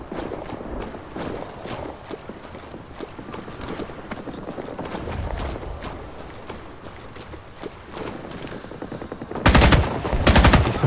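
Gunfire in the Vietnam War shooter Rising Storm 2: Vietnam: a continuous rattle of distant automatic shots and footsteps through most of the clip, then a loud, close burst of rapid fire near the end.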